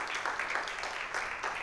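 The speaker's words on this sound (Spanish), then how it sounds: "Den un fuerte aplauso al Señor" A congregation applauds during an evangelical church service with a brief burst of steady, dense clapping. It sounds moderately loud and fairly close, with no clear speech.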